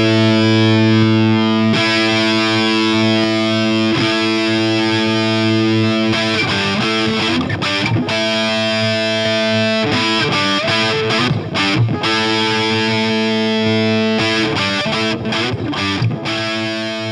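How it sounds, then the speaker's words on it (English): Loud electric guitar power chord through a '41 Willys distortion pedal, ringing out heavily distorted, with the tone shifting between several switch voicings and brief breaks between strums. "If I hit a power chord like that and you can kick in the different voicings on the switch"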